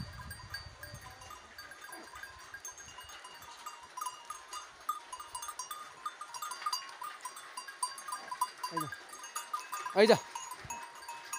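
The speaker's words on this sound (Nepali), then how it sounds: "चट्ट जङ्गलमा चाहिँ बाख्रा चर्नलाई प्रस्थान गर्दैछ।" Local goats in rural Nepal head into the forest to graze. Faint bells and scattered hoof and rustling sounds are followed by a few distinct bleats near the end, over quiet outdoor ambience. A brief word is spoken.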